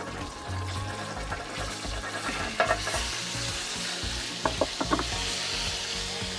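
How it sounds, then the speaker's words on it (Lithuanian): Chicken wings sizzling and frying in a hot pot (kazan) for spicy beer snacks, a steady crackling hiss throughout with a few brief clinks and stirring bumps near the end, close and moderately loud, no talk. "Na štai jau podas mūsų pradėjo garoti, nieko nelaukime ir dedame mūsų visus sparnelius atgal vienai minutiai"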